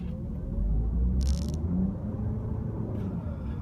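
A 2015 Honda Accord Hybrid accelerating hard, heard from inside the cabin as a steady low rumble and whir, with a couple of brief airy bursts on top.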